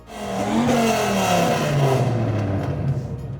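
A 1990s Dodge Viper's 8.4-litre V10 engine roars loudly nearby at a classic car rally, its deep pitch sweeping down as it passes and fades slightly.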